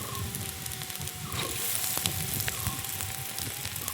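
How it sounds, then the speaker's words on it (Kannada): Chopped mutton liver and lungs hit a hot oiled pan and sizzle steadily, a dense crackling hiss that stays loud and close for the whole stretch. "ಇದಕ್ಕೆ ಇವಾಗ ನಾವು ಕಟ್ ಮಾಡಿರ್ತಕ್ಕಂಥ ಮಟನ್ ಲಿವರು ಹಾಗೂ ಲಂಗ್ಸ್ನ ಹಾಕ್ತಾಯಿದ್ದೀವಿ."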